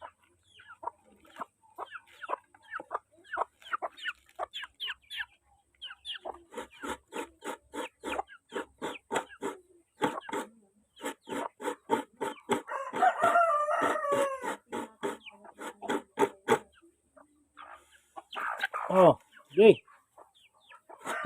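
Chickens at a rural Philippine home cluck in rapid rhythmic bursts, with a rooster crowing loudly partway through and a voice calling to them.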